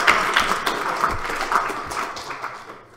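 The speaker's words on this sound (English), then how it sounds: "One more round of applause." Applause from a small audience after a secure coding class talk, steady clapping at moderate volume that gradually fades toward the end.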